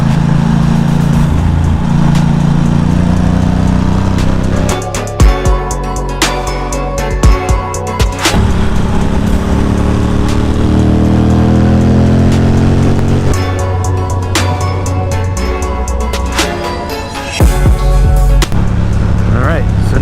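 A motorcycle cruising along an open road in Fallbrook, a loud continuous engine drone with rising and falling pitch as it shifts gears, heavy wind buffeting throughout.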